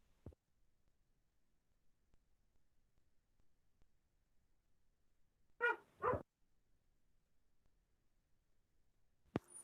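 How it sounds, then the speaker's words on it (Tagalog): Several dogs give a quick pair of barks in the middle, faint and somewhat distant, with near silence before and after and only small clicks. "Saglit lang maingay yung mga aso"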